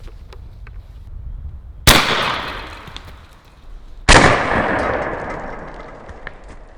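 An AEA 12 gauge magnum harpoon air gun fires slug shots into a watermelon, two loud sharp reports a couple of seconds apart, each with a long bright ringing decay outdoors.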